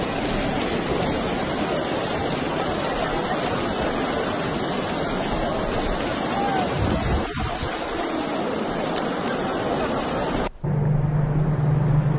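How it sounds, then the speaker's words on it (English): Heavy storm rain pours at the Kaaba in Mecca, a dense continuous hiss of water with a steady roar of wind behind it, then a sudden cut to a lower humming tone near the end. "the winds howled and rain cascades"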